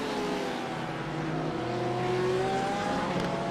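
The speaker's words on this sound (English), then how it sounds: "The Corvettes and Porsches battling it out." GTE race cars, Corvettes and Porsches, battle on the Daytona road course, with engines droning and shifting pitch as they run close together at moderate distance, no talk.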